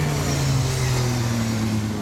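Yamaha Majesty 250 Type S big scooter (SG20J) fitted with a MAC exhaust, idling with a steady low engine drone throughout, close and even.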